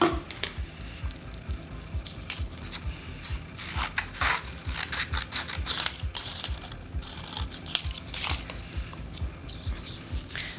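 Scissors cut a rocket shape out of paper for a space diorama, a close run of irregular snipping and rustling crunches that keep going without a break, no talking.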